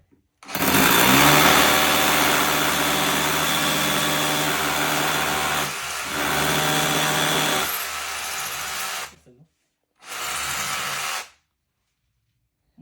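Makita rotary hammer drilling into hard concrete, a loud, steady whirring grind lasting about nine seconds with a brief dip, then stopping, followed by one short second burst, with no talk.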